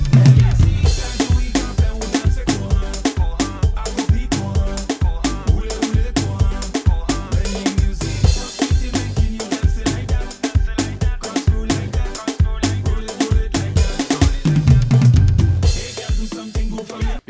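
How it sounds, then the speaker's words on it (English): A drum kit plays a basic soca snare groove over a backing song, with dense, steady hits driving a busy, loud mix that runs continuously for the whole stretch. "Let's see how it can sound when we add in the normal basic soca snare."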